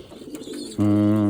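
Young pigeons in an aviary give a soft, close, sustained coo that swells after a quieter stretch of faint background noise.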